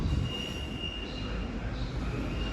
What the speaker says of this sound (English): coming in now will be a Great Western Railway service to Barnstable